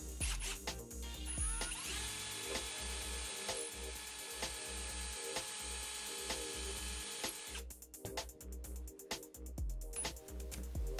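A drill bores a 3 mm hole into the centre of a wooden furniture dowel, a close, continuous whirring with grinding and ratcheting texture that stops briefly before starting up again.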